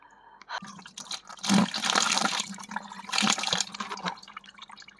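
Water poured repeatedly over a face wearing waterproof Lakme foundation makeup, splashing and trickling in two loud bursts with quieter dripping between, up close with no talking.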